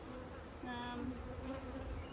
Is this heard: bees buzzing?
yes